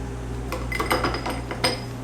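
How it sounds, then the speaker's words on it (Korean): Ice cubes dropped into a glass over chocolate for an iced chocolate latte, a few close, bright clinks and knocks in quick succession against a low steady hum, with no talking. "그리고 얼음을 넣어줄게요"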